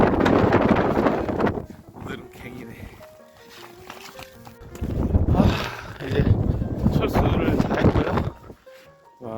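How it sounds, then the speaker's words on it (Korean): Strong wind batters the microphone on a beach during a clam-hunting outing, roaring in loud gusts. Someone talks over it for much of the time. "오늘은 바람이 너무 셉니다"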